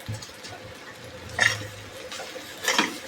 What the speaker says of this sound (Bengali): ভালো করে এখন নাড়াচাড়া করবো